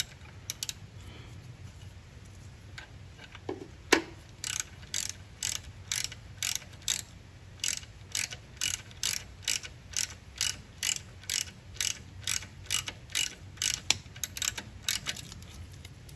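Rapid clicking of a 14 mm ratchet loosening an alternator bolt on a 2012 Toyota Corolla with the 1.8L engine, a long regular run of close metallic ratcheting strokes after a few softer knocks.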